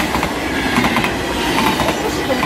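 A train rolls past at a railway in Roermond, close and loud, with a steady rumble and a rhythmic clickety-clack of wheels over rail joints that lasts the whole time.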